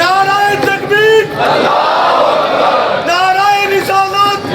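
At a large Chehlum Imam Hussain gathering in Sarwar Chowk, Okara, a crowd roars back in unison to the Nara-e-Takbir slogan. A single loud amplified voice leads the call before the massed shout and resumes right after it.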